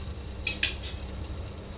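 Eggplant frying in hot mustard oil sizzles steadily, with two quick metallic clinks of stirring near the middle and the hiss continuing afterward.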